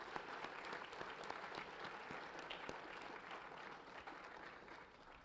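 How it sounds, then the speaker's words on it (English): Applause from the audience at a Brockport High School National Honor Society induction ceremony, a steady, fairly distant wash of many hands clapping that holds evenly for about five seconds, no voices over it. "How about a round of applause for all of you?"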